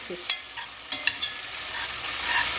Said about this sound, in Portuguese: Vamos deixar fritar bem essa cebola, esse alho.